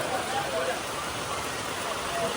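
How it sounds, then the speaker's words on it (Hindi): Heavy rain pouring down steadily around the road to Anandpur Sahib and Naina Devi, a dense, even hiss with no breaks. "इतनी बारिश हो रही है भाई"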